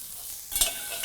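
Onion tipped into potatoes frying in a pan, with a burst of sizzling and a stirring scrape midway through the short moment, no talking.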